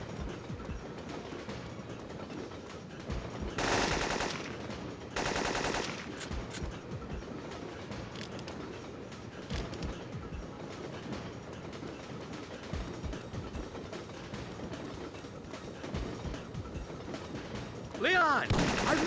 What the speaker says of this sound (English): I've made it to the engine, but this train isn't gonna stop in time.